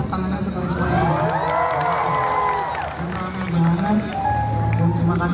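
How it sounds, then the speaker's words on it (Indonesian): A concert crowd in Medan cheers and shouts loudly, with whoops and high voices rising over scattered clapping, all dense and close throughout. "Kita tepuk tangan untuk kalian semua"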